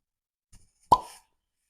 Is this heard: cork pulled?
yes